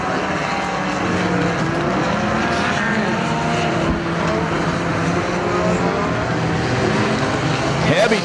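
Mini stock race cars roar around a dirt speedway at Perris Auto Speedway, several engines droning and rising in pitch as they come off a corner, continuous and loud, with a commentator talking over them.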